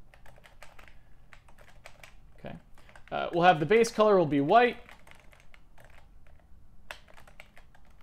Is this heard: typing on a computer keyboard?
yes